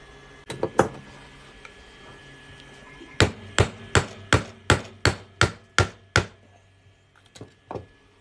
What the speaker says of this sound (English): we're going to go ahead and pop it out of this flip and punch a hole in it